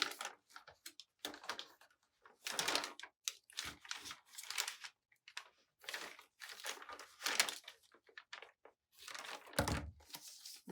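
Thick white plastic being cut apart into handles, heard as repeated close crinkling, crunching snips and tearing bursts in an uneven rhythm, fairly quiet with no voices.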